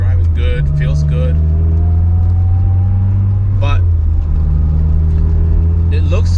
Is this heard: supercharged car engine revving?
yes